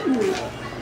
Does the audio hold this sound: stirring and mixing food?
no